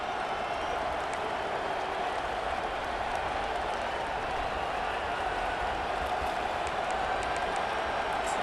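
Stadium crowd at an LSU vs Oklahoma football game near the goal line: a dense, continuous roar of cheering and noise, loud and unbroken throughout, with no clear talking above it.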